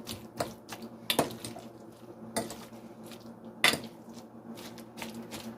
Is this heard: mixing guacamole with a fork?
yes